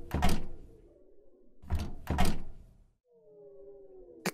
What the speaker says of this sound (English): I can't open the door.